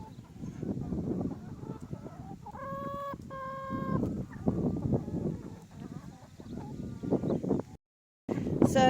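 Hens cluck and mutter inside a farm chicken coop, with a rooster giving a short crow partway through; the birds sound close and busy, with some rustling around them.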